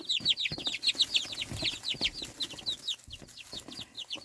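High, rapid chirping and peeping from a group of chicks, continuous and close, with faint soft clucks underneath and no talking.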